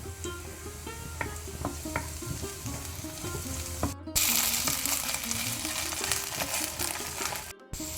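Long thin-sliced onions sizzle steadily in a hot pan for a Mangalorean chicken pulimunchi, a close, dense frying hiss with occasional stirring clinks and scrapes, no voices.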